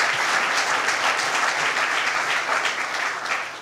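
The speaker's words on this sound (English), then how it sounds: "Big round of applause to Steve Bellone." An audience at an outdoor state park event gives a dense, steady round of applause, loud and continuous, fading slightly toward the end.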